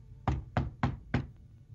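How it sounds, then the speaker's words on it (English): Four firm knocks on a door, evenly spaced and close, each a sharp hollow thud, with quiet between them. "she knocks on the door"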